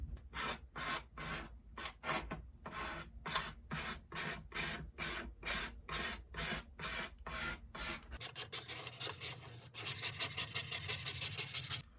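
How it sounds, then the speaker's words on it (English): Rhythmic back-and-forth rubbing strokes as a decal is pressed onto a wooden cornhole board, steady and close, shifting to a faster, brighter scraping rasp near the end. "Now it's time to just apply this decal."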